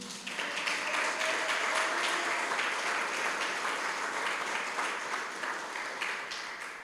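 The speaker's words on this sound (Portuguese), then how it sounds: "Você pode dar uma salva de palmas para Jesus?" A church congregation applauds for Jesus during a sermon, a full, sustained wash of many hands clapping that swells quickly and stays even until the end.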